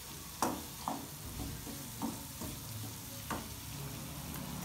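Spices and curd cooking in a pan for a Rajasthani raw turmeric curry: a quiet, steady sizzle with a handful of spaced spatula scrapes and taps, faint and close.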